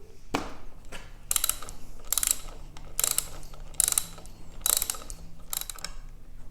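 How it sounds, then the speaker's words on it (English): A spanner works a bolt loose on the clutch lever of a Kawasaki Versys-X 300, giving seven or so crisp, close bursts of ratcheting clicks in an even rhythm with short pauses between. "Need to use a spanner on the top as well."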